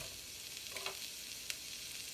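Onion sizzles quietly in a hot pan as the first ingredient for moo shu shrimp, a steady soft frying hiss with a couple of faint clinks.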